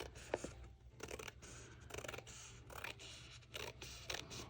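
Scissors trim the edge of printed fabric in a quiet series of soft, crisp snips and scrapes, each one short and repeated in an uneven rhythm close by.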